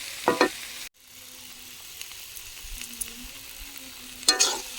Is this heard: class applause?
no